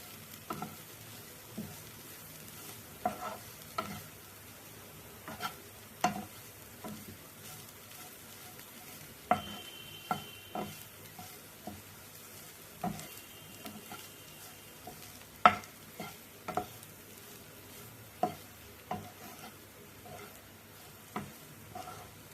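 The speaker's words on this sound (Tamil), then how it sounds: "ஒரு நிமிஷம் எடுத்து இப்படி எல்லாம் மிக்ஸ் பண்ணிவிடுவோம்" A spoon scrapes and taps steadily against a pan while a beans poriyal stir-fry is stirred and mixed, quiet clinks recurring every second or two over a soft sizzle.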